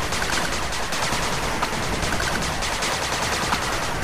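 Rapid automatic gunfire from the retro-styled real-time strategy game 8-Bit Armies, with dense continuous bursts and scattered shots crackling loudly without pause throughout, no talking.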